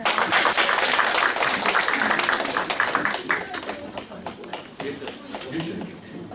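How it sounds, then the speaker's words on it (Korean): Audience applause at a Korean sales-recognition awards ceremony, a dense wash of clapping that is loudest at the start and then thins and fades while people talk over it. "박수 주세요"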